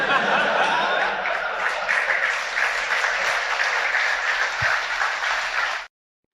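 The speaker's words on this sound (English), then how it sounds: "those were pro WWE fans that were clapping at that" A WWE crowd claps and applauds in a large arena, a loud, dense wash of many hands that holds steady for several seconds and then cuts off abruptly.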